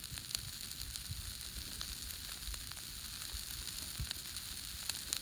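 A burn pile of dry tumbleweeds is on fire, giving a faint, steady crackle and sizzle with scattered sharp pops over a low roar.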